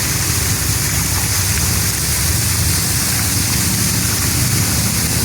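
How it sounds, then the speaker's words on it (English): Steady broadband rush of a mountain waterfall, continuous and fairly loud, with a deep low rumble underneath and no voices. "Look at this beautiful waterfall coming down the mountain here."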